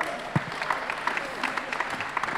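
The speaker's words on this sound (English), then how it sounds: "Now you can give yourself a round of applause again." A small audience applauds at a business school conference session, a light scattering of claps with a few sharp individual hits, fairly faint and distant.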